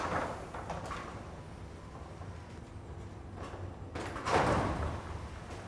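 A MERLIN garage door runs down onto a timber block placed under it for a safety reversal test, its motor and panels rumbling and clattering, then jolting as the door reverses.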